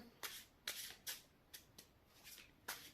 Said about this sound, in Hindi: जब तक मैं कार्ड शफल करूं